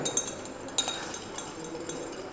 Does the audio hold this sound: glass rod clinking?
yes